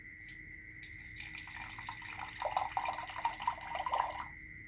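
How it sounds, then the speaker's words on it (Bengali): Water pours out of a cork in a magic trick, a steady splashing trickle like a running tap that builds slightly and stops abruptly at the end. "কিভাবে কর্ক ভিতর থেকে জল বেরোচ্ছে"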